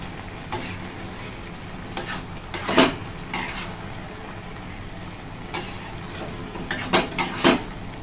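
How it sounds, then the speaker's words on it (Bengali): Hot water poured into a pan of frying spiced peas for ghugni, a steady sizzle carrying through with several sharp bursts and pan clatters. "এবারে আমি এর মধ্যে জল দিয়ে দেবো।"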